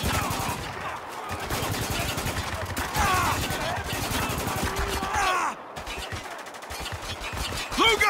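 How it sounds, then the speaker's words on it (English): Rapid bursts of automatic rifle fire and scattered gunshots in the war shooter Spec Ops: The Line, dense and continuous, with soldiers shouting over the shooting. "Taking heavy fire!"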